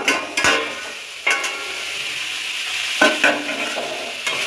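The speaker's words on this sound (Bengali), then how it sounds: "একটু নাড়িয়ে নেব।" A spoon stirs food in a cooking pot, a few distinct scraping sweeps against the metal at irregular intervals over a soft, steady sizzle, close by with no voices.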